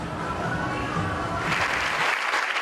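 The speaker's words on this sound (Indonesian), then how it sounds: "Gemuruh tepuk tangan mengiringi penganugerahan Peter Benchley Ocean Award kepada Menteri Kelautan dan Perikanan RI Susi Pujiastuti" A ceremony audience gives thunderous applause as the Peter Benchley Ocean Award goes to Indonesian Minister of Marine Affairs and Fisheries Susi Pujiastuti. The clapping is loud, dense and continuous throughout.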